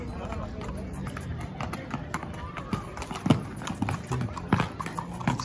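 Hooves clip-clop steadily on pavement as horses walk in San Vicente Ferrer, Querétaro, with voices and crowd bustle in the background and a few sharper, louder hoof strikes near the end.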